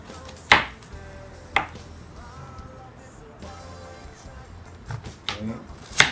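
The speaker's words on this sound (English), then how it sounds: "what I'm doing now is prepping all the vegetable" Vegetables such as eggplant are cut for pinakbet, with a few sharp knife chops on a board spaced through the clip, a close voice talking quietly in between.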